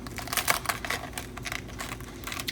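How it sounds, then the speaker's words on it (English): Crisp crunching and snapping as brittle whole-food plant-based crackers are broken apart by hand, a quick irregular series of close, dry cracks. "So then you just break this up."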